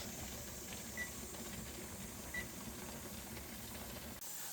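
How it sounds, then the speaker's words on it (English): Steady, loud hiss of steam streaming from the vent of a pressure canner on a stovetop burner set to high, a continuous airy rush with faint mechanical ticks, ending abruptly. "Once a strong stream of steam starts coming out of the steam vent, let it vent for 10 minutes."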